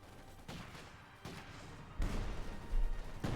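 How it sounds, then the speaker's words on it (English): Field guns fire an artillery barrage in the strategy game Company of Heroes 2. Heavy booming impacts land one after another, with a few spaced thuds building to a louder, rumbling cluster of explosions at the end. "Quick barrage, there we go."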